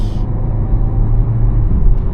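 Low steady engine hum from a VW Golf 7 R-Line 1.4 TSI with DSG gearbox while driving at night, a constant close rumble heard alone.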